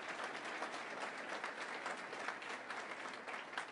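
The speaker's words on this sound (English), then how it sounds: "Let's give them all a big round of applause" Applause from the audience at a regional cabinet meeting in Southern Maryland, a faint, even patter of many hands clapping together that stays steady throughout without swelling or fading.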